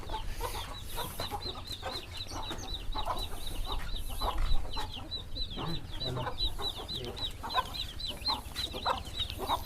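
Chickens cluck continuously over a busy poultry farmyard with partridges and pigeons, a persistent high chirping bird call repeating throughout and a low background rumble.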